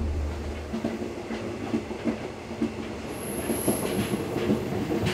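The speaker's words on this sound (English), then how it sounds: "I'm in between coaches here on the train. Hope you can hear me, it's kind of noisy." Loud, rattling rail noise fills the space between coaches of the Malaysian jungle train, with clattering wheels and a high metallic squeal partway through.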